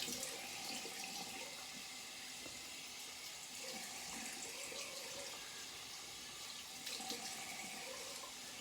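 Tap water runs steadily into a sink while someone rinses a small razor nick after shaving. The flow is a continuous close hiss with no talking.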